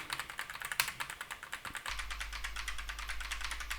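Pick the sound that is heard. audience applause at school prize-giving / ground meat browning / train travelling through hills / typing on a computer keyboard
typing on a computer keyboard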